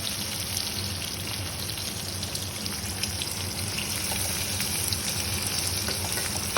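Okra (bhindi) frying in a pan, a steady close sizzle with a watery hiss that runs unbroken throughout, no voices over it.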